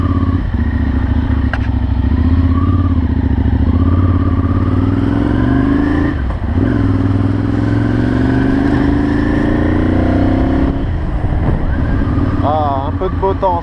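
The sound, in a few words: Ducati Monster 796 motorcycle with Termignoni exhaust riding off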